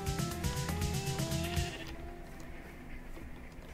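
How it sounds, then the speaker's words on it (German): Sheep bleats from the Minecraft video game, from a mushroom sheep, come as a loud, wavering, harmonic cry over the first two seconds, then give way to quiet background ambience. "da ist ein Schaf, ein Pilzschaf"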